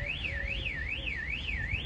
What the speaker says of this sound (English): somebody's car alarm's gone off